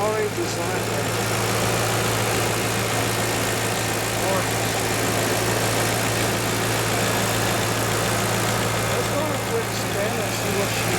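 A Maserati Quattroporte with a Ferrari-designed engine idles at a steady, even rumble with a constant low hum throughout, close to the microphone and with no talking.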